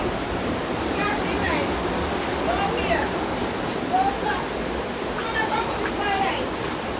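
Floodwater rushes after heavy rain in Jamaica, a steady broadband roar of churning water that runs unbroken and close throughout, with faint voices and occasional whistling or calls mixed in underneath.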